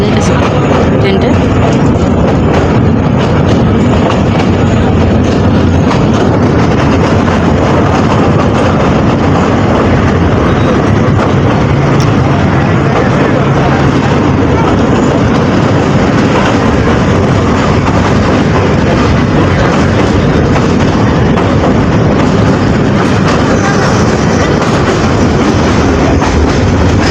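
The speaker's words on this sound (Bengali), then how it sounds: "ব্রহ্মপুত্র নদীর উপরে যাইতেছে ট্রেনটা" A train rolls steadily across a bridge over the Brahmaputra river, a continuous loud rumble and rattle of carriages lasting throughout, with broadband rail noise and faint voices underneath.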